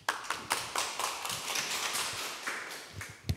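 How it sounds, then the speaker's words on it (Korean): Scattered, fairly quiet hand claps rise from a small audience at a local self-governance forum in Gwangmyeong, a few distinct claps in an uneven rhythm with no talk over them. "박수로 듣도록 하시겠습니다"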